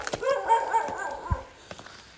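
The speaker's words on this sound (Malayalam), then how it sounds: "എൻ്റെ ചുറ്റും പട്ടികളാണ് ഒരു രക്ഷയില്ല" Several dogs bark and yelp close by in a short, uneven burst on a hill path, then fall quiet with faint noise behind.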